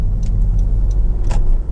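A Honda Civic 2.2 i-DTEC EX GT five-door drives along a road, a steady low rumble of engine and tyres heard from inside the car, loud and continuous with faint ticks.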